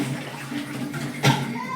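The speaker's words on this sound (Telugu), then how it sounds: "నేను ఇదిగోండి ఈ క్యాన్ తెచ్చి దీనిలో వాటర్ నింపి సింక్ పెట్టి కడుగుతానండి." Water poured from a can into a sink for washing, a short steady trickling splash with a brief louder gush near the end.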